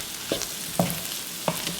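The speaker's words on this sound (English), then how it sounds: "Mix everything well together again." A spoon stirs tomato marinara sauce with oregano and freshly ground black pepper in a pan, giving three soft scraping swirls over a faint, steady sizzle, close and fairly quiet with no talking.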